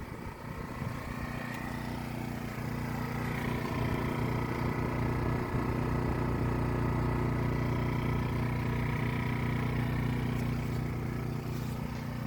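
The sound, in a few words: Harbor Freight Predator 1400 inverter generator running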